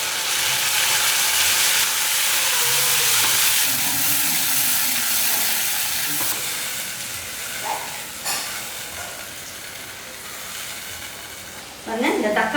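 Tomato and onion sautéing in oil, a loud close sizzle and hiss that eases slightly, broken by stirring scrapes and clinks toward the end.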